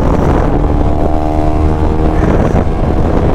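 A motorcycle engine revs loudly and steadily up close as the bike pulls away on a hill road near Rampur Bushahr, its harmonic drone rising and falling over constant wind rush.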